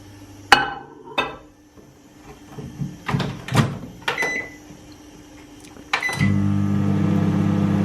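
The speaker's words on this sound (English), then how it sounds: "So technically I heat it up for 24 seconds in the microwave." A microwave oven heats an Oreo white chocolate bar: the door clunks open and shut, keypad beeps chirp several times, then the oven's steady hum starts up and runs on.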